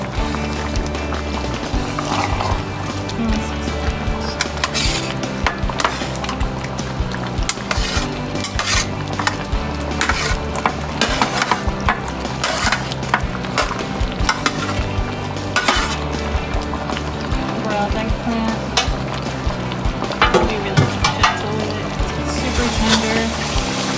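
Daikon broiled in annatto oil is folded and stirred in a pan for Filipino kare kare, with repeated scraping, clinks of a utensil against the pan and a faint sizzle, close and busy throughout.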